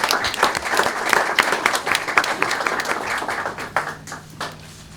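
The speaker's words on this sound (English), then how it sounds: "if we could give them a quick round of applause for them doing all that for us" A room of attendees at a small business pitch competition gives the scoring crew a quick round of applause, with steady dense clapping throughout that starts to thin near the end.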